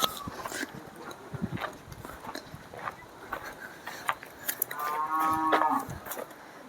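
A bull on a farm moos loudly in a drawn-out call near the end, after scattered outdoor noises and rustling, with no one talking.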